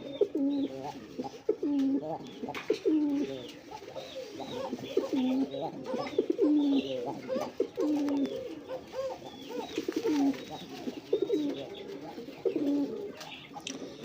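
A pair of Indian Bombai pigeons coo in repeated low, rolling phrases at close range, with soft rustling and faint background noise between calls.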